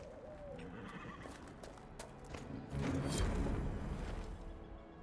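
A horse whinnies briefly in the Dragon Age: Inquisition video game, followed by hoof clip-clop and a louder rustling ambience, with faint bird calls in the background.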